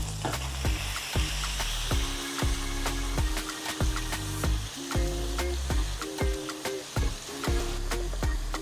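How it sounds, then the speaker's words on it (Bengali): Chicken pieces for a stew sizzle and fry in a pan with ginger paste and salt, a steady loud crackle broken by repeated sharp clanks of a utensil stirring against the pan. "এবার আমি চিকেনের টুকরোগুলো দিয়ে দেব।"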